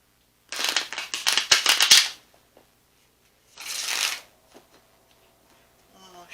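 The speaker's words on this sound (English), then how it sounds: "One more shuffle." A deck of cards being shuffled in two bursts, a long riffle of quick crisp snaps followed after a pause by a shorter softer one, close and alone.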